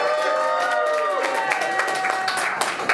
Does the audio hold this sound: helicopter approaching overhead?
no